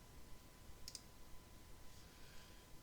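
Two quick, faint computer mouse clicks in close succession against a quiet room background, with no other sound around them.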